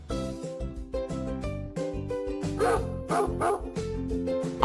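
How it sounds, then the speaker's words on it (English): Farm dog barking, a series of short bow-wow barks and yips repeating at an uneven rhythm over a continuous musical backing, with no speech. "I am a dog."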